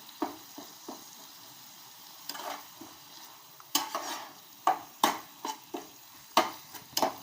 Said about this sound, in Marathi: म्हणून मी थोडंसं पाणी ओतलेलं आहे मिक्स चांगले करून घ्यायचे मसाले